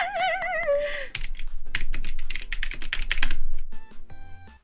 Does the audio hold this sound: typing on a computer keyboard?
yes